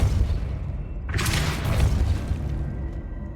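A single loud Depulso spell blast from the Hogwarts Legacy video game bursts out with a sharp, bright whoosh and boom, then fades over a couple of seconds above a steady low game rumble.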